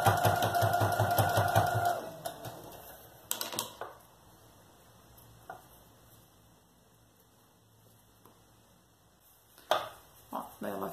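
A sewing machine backstitches the end of a child's backpack strap in a loud, rapid mechanical run lasting about two seconds, followed by quiet handling and a few faint clicks.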